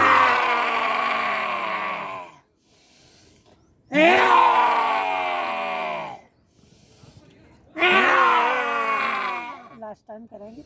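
A yoga class doing the lion pose (simhasana), with loud, drawn-out roaring exhalations, tongues out, in three long blasts separated by pauses, made by human voices imitating lions.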